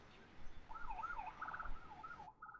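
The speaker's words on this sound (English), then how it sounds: "I just heard sirens" A wailing siren rises and falls repeatedly, distant and muffled, cycling through several sweeps in a steady pattern.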